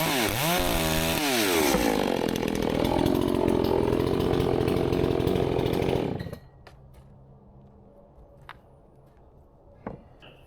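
A chainsaw revs and roars loudly through a firewood log for about six seconds, its pitch shifting as the cut progresses, then cuts off, leaving a quiet room with a few light knocks.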